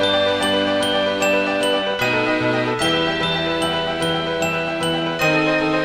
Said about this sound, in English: And now we have the strings and the glockenspiel in the middle and the chimes at the bottom.